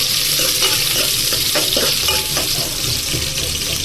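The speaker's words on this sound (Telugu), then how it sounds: "ఉల్లిపాయలు కొంచెం ఫ్రై చేసుకొని" Onions fry in a pan of oil for a vegetable biryani, giving a steady, loud sizzle with a few stirring scrapes throughout.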